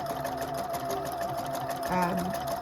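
A Husqvarna Viking #1+ sewing machine stitches a cross-stitch pattern, its motor whirring steadily up close with a brief shift in tone partway through as the stitch pattern changes.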